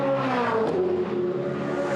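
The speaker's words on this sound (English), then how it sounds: "The car doesn't sound real good at the moment. He believes it's broken the exhaust." A Supercars race car engine with a broken exhaust drones steadily at Phillip Island, a loud, rough, harmonic-rich note with a slight pitch shift partway through, close and continuous.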